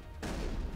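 Gunfire in the Mass Effect video game erupts suddenly after a brief quiet moment and continues as a dense, loud burst of shots through the rest of the moment.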